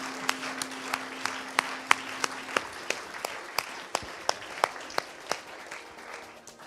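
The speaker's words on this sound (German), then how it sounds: "ihr dürft euch selber einen grossen Applaus geben" Church congregation at a livestreamed service applauding, a room full of people clapping steadily for several seconds with sharp individual claps standing out above the wash, fading slightly toward the end, with no voices.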